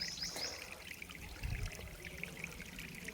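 Water poured over a concrete earth beam on a construction site for curing, a quiet steady trickle and splash with a faint outdoor background.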